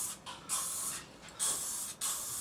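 Short bursts of aerosol spray paint hiss indoors, three or four close, loud blasts separated by brief gaps, with faint mechanical clicks of the nozzle between sprays and no talking.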